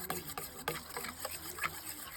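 A utensil whisks beaten egg with salt and turmeric in a bowl, giving a run of quick, soft, close clicks and scrapes at an uneven rhythm over a faint background hum.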